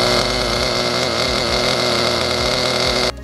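A nitro RC car engine screams at full throttle down a straight, a loud continuous high-revving buzz holding close and steady before cutting off abruptly at the very end.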